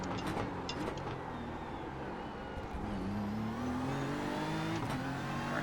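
A GT3 race car in the iRacing sim revs hard while accelerating out of a chicane at Spa, a steady loud engine drone with a rising pitch as it pulls through the gears.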